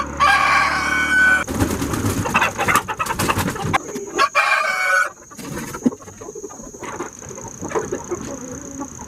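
Rhode Island Red chickens cluck and a rooster crows repeatedly from close range in a coop with nesting boxes, loud and busy, with scuffling and flapping between calls and no talk.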